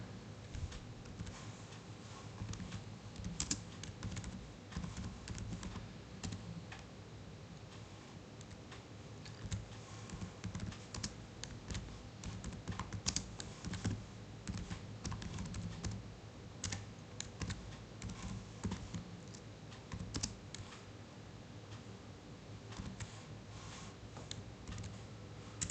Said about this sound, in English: suppose I want to type the name and address of the company